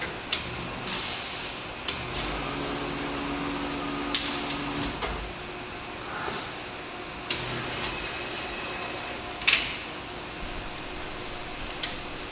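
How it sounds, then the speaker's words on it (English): A DP1500 coating machine in a factory starts and floods, giving a steady mechanical hum and hiss broken by a handful of sharp clicks and clunks spaced a second or two apart. "I hit start, transfers the machine in. Machine floods."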